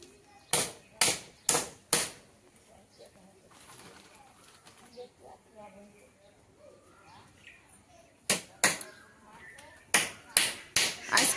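Hammer blows drive nails into the roof frame of a house under construction, landing as four sharp, loud strikes in quick succession, then a quieter stretch with faint birds, then further bursts of evenly spaced blows.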